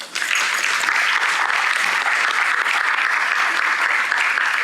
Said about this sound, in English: We have to give him applause